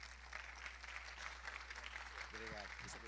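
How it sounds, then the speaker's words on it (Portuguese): An audience claps steadily throughout, welcoming a speaker to the stage at an industry technology talk on digital transformation and AI. A steady low hum runs underneath, and a voice speaks briefly near the end. "vamos receber com uma salva de palmas nosso professor"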